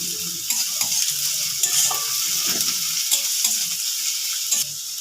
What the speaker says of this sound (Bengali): তেল গরম হয়ে গেছে, পেঁয়াজ কুচনো দেবো।